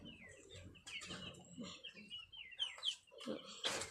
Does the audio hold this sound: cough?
no